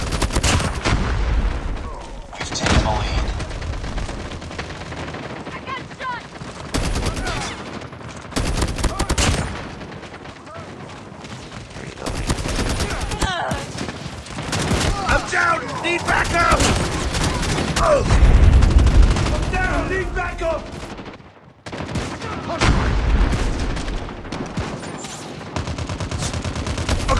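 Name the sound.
gunfire from the video game Call of Duty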